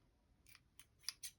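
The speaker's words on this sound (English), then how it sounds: "We'll trim that a little bit." Scissors trimming quilt fabric, four quick soft snips in a row, close but faint against a quiet room.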